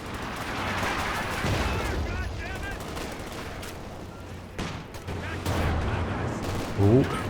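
Company of Heroes 2 battle sounds with a tank gun firing amid rattling machine-gun bursts and explosions, dense and continuous, with a voice talking throughout.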